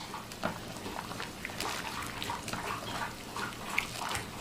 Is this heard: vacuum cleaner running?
no